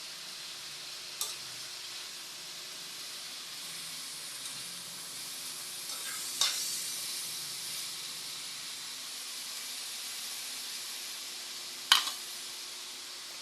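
Green unripe papaya sautéing in a pan, a soft continuous hiss of light frying with a few brief clinks of a utensil, no talk.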